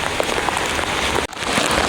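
Extremely heavy rain in Mumbai pounds down with big drops, a loud, dense, unbroken roar of water striking surfaces close by, briefly cut off near the end.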